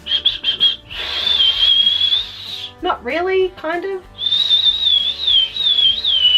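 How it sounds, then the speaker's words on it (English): Someone whistles a wavering high tune in two stretches, with a brief spoken reply between them. "Can I whistle?"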